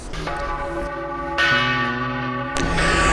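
Church bells ring in the Stubai Valley in winter, loud, full peals with long sustained overtones, a fresh strike near the start, another around halfway and a third near the end, each swelling over the lingering hum.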